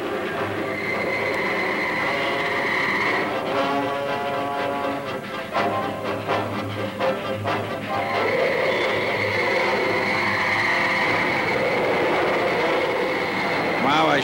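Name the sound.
train passing in a movie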